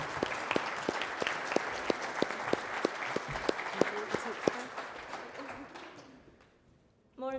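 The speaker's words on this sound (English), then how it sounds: "a big round of applause, please" Conference audience applauding as speakers are called up on stage at a housing association event, steady dense clapping for about six seconds that fades out before a voice begins at the very end.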